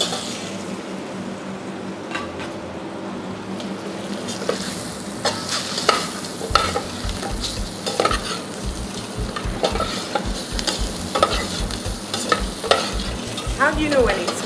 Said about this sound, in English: okay, we saute it.